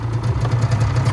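Motorcycle engine idling close by, a loud steady low throb with a rapid even pulse, no voices.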